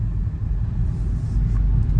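Low, steady engine rumble from a Dodge Charger R/T idling, deep and continuous with a slight surge toward the end.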